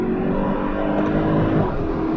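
Mercedes C63 AMG Performance engine humming steadily while driving slowly over a rough, broken road, a continuous close drone with road rumble and no sharp revs.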